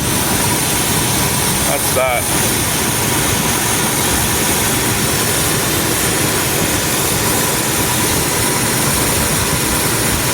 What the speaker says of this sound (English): The compressor does make a squealing noise, but it does, as you can see, starts right up.